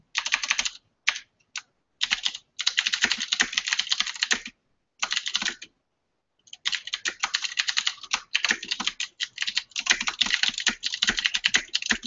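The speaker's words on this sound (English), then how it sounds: "Sorry about the loud typing." Loud typing on a computer keyboard, close and fast, coming in dense bursts of clacking keys with short pauses between runs.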